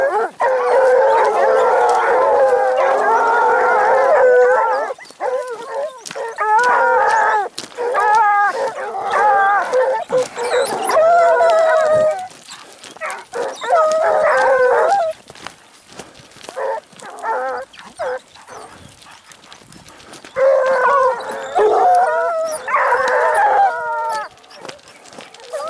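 A pack of hunting dogs chasing a hare howls and bays loudly in repeated overlapping bursts, close by, with short lulls between volleys.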